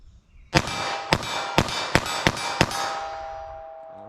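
Six rapid revolver shots of .32 S&W Long rounds fired in quick succession at a target, sharp loud cracks spaced about half a second apart, with ringing tails between them.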